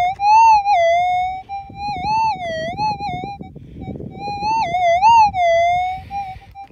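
A metal detector searching for gold gives a loud, warbling electronic tone that rises and dips in pitch in several bursts, over faint scraping and digging noises.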